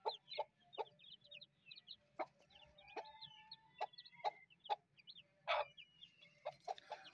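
Chickens, including black hens and plump chicks, cluck softly in short, scattered bursts over a low background hum, with a few sharper squawks mixed in.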